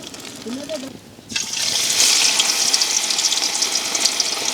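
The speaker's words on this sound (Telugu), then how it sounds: "నూనె అయితే మంచిగా ఆగింది ఇక చేపలు ఫ్రై చేద్దాం" Fish dropped into hot oil for a village-style fry, a sudden loud, steady sizzle that bursts in after a brief quiet and keeps crackling close by, following a few spoken words at the start.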